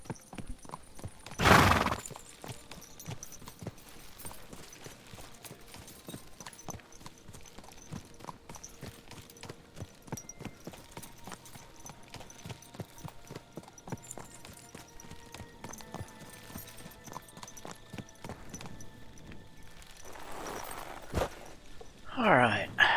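Hooves clip-clop steadily from a horse in Kingdom Come: Deliverance II, a continuous rhythmic walk with a couple of louder bursts and a brief whinny near the end, over a soft game backdrop.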